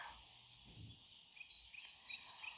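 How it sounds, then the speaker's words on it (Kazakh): A faint, steady high-pitched grasshopper chirping trills on in the background, with a few brief brighter chirps layered over a quiet outdoor hush. "Шегіртке шырылдайды."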